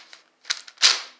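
A speed cube puzzle is turned quickly to test corner cutting, giving a few sharp plastic clacks and a louder final snapping turn, close and alone.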